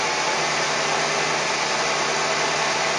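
A steady, loud hissing roar fills the whole stretch, a running car engine blended with a continuous hiss of brake cleaner sprayed to find a vacuum leak, with no breaks or talking.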